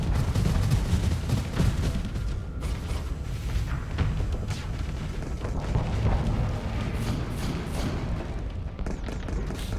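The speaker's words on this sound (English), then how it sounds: "Love that that beam cannon always sounds heavenly." Beam cannon weapons firing in the space combat game Starsector, a dense, loud, continuous roar of energy blasts and booming impacts throughout, with no talking.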